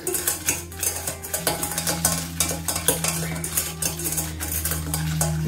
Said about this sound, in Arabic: نخلطوا هاد المكونات ونساجم مع بعض